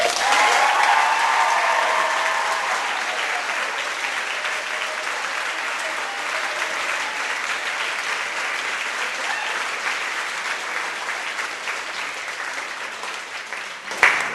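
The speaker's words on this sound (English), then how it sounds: "Let's give them one more big round of applause" Crowd applause for soldiers rings out at a US Army All-American Marching Band ceremony: a long, full round of many people clapping, strong at first and easing slightly as it continues.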